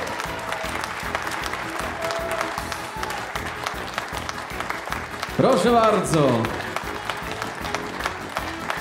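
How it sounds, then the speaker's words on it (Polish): An audience claps at a music awards gala as the year's top performer, a band, is announced. Continuous applause runs beneath a man's speech and swells briefly louder near the middle before settling again. "Wielkie brawa!"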